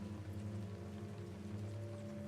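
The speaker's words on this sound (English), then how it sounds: "The rain began to pound harder against our roof." Rain pounding against a house roof, a steady, faint, continuous drumming hiss over a low droning hum, with no voices.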